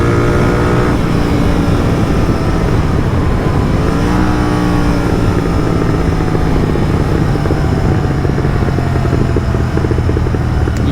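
A loud Royal Enfield GT 650 motorcycle engine runs close by, its exhaust revving and popping with rough crackles throughout.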